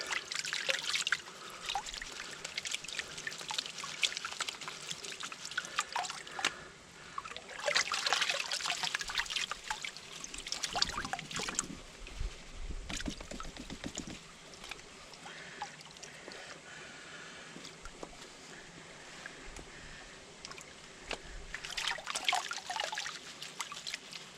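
Water sloshing and trickling in a cheap plastic Dollar Tree gold pan as gravel and sediment are panned out, a continuous wet swirling with louder pours and splashes in bursts, close up, with no talking.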